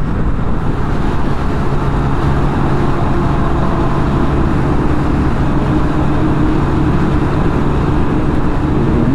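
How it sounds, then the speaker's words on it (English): A fast ride down a busy highway as motorbikes thread through traffic produces a dense, unbroken roar of road and wind noise at a steady high level, with no talking. "Bike crew running 120 plus down the highway, threading through traffic."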